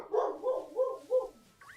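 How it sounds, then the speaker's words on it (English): A dog barks four times in an even rhythm, mid-loud and fairly close, with short muffled yips and a faint trailing whimper, with no talking over it. "Don't mind the barking."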